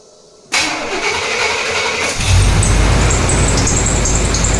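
A 1988 GMC Jimmy with a 350 TBI V8 cranks and fires up, then settles into a loud, steady idle that deepens after a couple of seconds.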